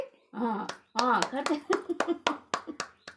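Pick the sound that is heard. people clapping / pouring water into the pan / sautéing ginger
people clapping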